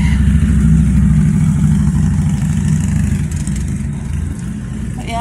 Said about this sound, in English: There goes a motorbike.